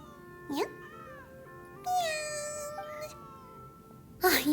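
A cat in the video game Genshin Impact lets out a few short, clear meows spaced apart over soft, steady game music, with a louder final mew at the end.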